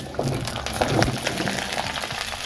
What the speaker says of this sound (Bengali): এবার সব সবজিগুলো ঢেলে দিচ্ছি।